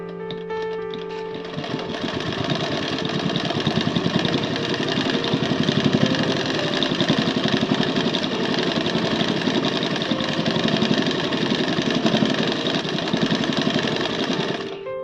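A sewing machine stitches cloth while darning a tear, running continuously with a fast, even mechanical whirr and rhythmic needle chatter. It stays close and loud throughout with no talking.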